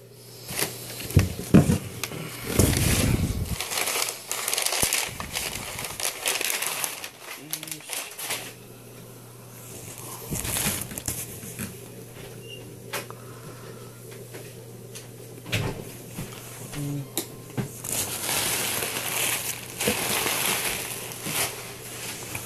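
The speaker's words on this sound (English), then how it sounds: "So I'm gonna take it out of the box and take a look" An acrylic sump is taken out of its cardboard box, with scraping, rustling and knocking of cardboard and plastic in irregular bursts under a steady low hum, close by.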